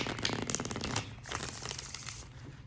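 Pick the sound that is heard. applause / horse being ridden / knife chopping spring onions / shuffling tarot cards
shuffling tarot cards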